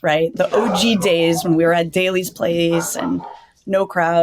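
A dog barks and yips close by in a home during an interview, with short repeated barks mixed in under a person's continuous speech.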